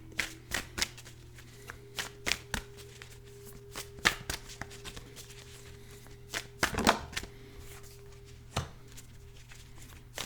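Tarot and oracle cards shuffled by hand, a close run of brisk riffling slaps and flutters in irregular bursts over a low steady hum.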